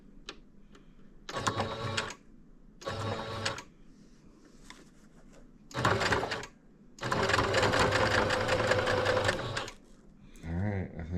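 A sewing machine back-stitches blackout curtain fabric in several separate bursts of rapid mechanical stitching, the longest near the end, with quiet pauses between runs and a voice briefly speaking.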